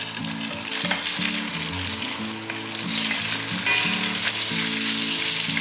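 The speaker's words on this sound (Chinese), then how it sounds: "锅内放入一些油，油热了之后，把茄子放进来。" Eggplant fries in hot oil in a pan for a vegan home-style dish, giving a loud, steady sizzle that runs without a break and swells slightly partway through, with no voices over it.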